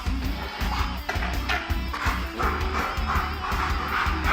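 Dogs from a protection-dog breeder bark in a busy, crowded setting, with repeated barks blending into continuous background noise and commotion.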